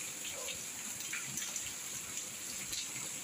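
Steady rain falling on a street, a continuous close hiss of drops with faint splashes and no voices.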